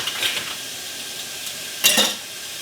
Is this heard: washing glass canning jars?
yes